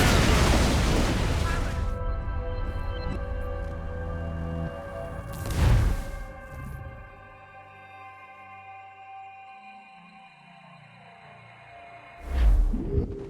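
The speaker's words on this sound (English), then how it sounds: "They're firing mortars!" Cannon-like mortar fire from ships during a naval battle in the video game Assassin's Creed Rogue: loud booming blasts at the start, midway and near the end, separated by rumbling, sweeping tones.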